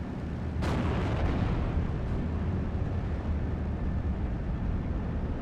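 Aerial bombing in the World War II strategy game Steel Division: Normandy 44 produces a sharp blast followed by a long rolling rumble of explosions under steady battlefield noise.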